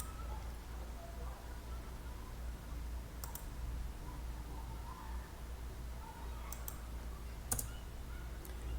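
Computer mouse clicks, a few faint sharp clicks, single and in quick pairs, over a steady low hum of room noise.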